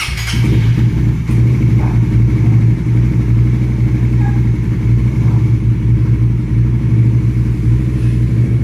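The engine of a Raider 150 FI motorcycle, fitted with an NK Fullstand Next ECU, runs loud and close at a steady, throbbing idle with no pauses throughout.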